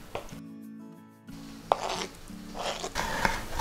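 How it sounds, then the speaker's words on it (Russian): A knife dices lightly salted herring fillet on a board, giving a short run of soft, close chopping taps and clicks with brief pauses between strokes. "Филе слабосоленой сельди нарезаю мелким кубиком."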